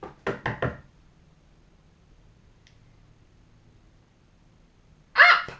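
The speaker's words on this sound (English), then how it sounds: "His aunt rapped on the door again." Three quick raps on a door, then a long quiet pause before a loud burst at the end.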